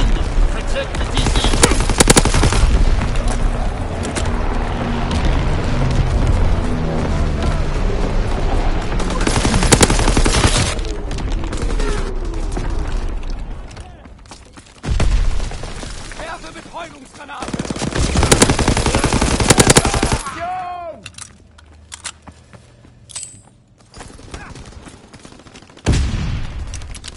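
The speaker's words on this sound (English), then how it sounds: "Flak burst has commenced." Loud, sustained machine-gun and flak fire in a PS4 video game, continuous bursts of rapid gunfire with heavier booming blasts throughout, dropping briefly around the middle before resuming, with some in-game voice lines mixed in.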